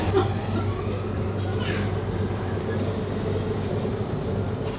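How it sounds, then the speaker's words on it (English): A tram travelling toward Newhaven gives a steady, low rumble with a constant hum and faint rattling throughout, with no clear talk over it. "Oh, and here we are on the tram."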